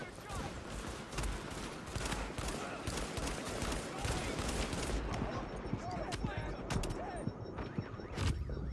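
Dense, sustained gunfire in the co-op shooter Tom Clancy's The Division, with rapid automatic bursts and overlapping shots crackling steadily throughout, while voices talk faintly underneath.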